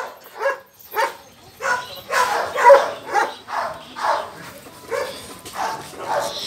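Several dogs bark in repeated bursts, some sharp yips and whines mixed in, fairly close and loud, with short pauses between volleys.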